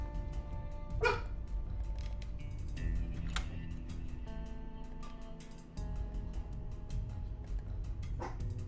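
Dogs bark faintly in the distance, a few scattered yips and barks over a steady low background hum.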